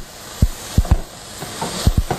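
Cod fillets cooking in hot safflower oil, with a soft background sizzle broken by several sharp, close bumps and scrapes as the fish is moved in the pan, and no voices.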